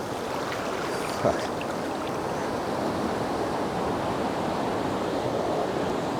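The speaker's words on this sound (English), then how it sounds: "And here comes the water." Ocean surf washes steadily onshore at a seascape photography spot with a light northeast wind, a continuous loud roar of breaking water and foam with one brief louder splash near the start.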